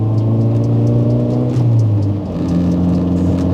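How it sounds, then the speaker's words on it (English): Interior drone of a lowered 2007 Mazda 3 sedan on the road, a loud steady engine hum and road rumble with the pitch dipping and rising slightly as it drives. "this is my 2007 Mazda 3 sedan"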